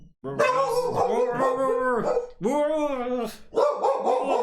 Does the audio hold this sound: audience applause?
no